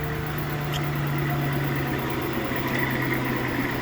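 A 10 horsepower three-phase idler motor, rated for 208, 220 or 440 volts, runs in a homemade phase converter. It gives a steady, close electrical hum with constant low vibration and no change throughout.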